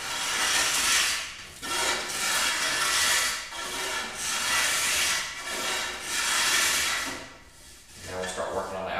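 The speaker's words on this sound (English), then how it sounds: "just take some sandpaper and clean them up, keep them flat" Sandpaper rubs back and forth across a wooden bow limb in steady, rhythmic hissing strokes, close and fairly quiet, each pass a soft scratchy swell.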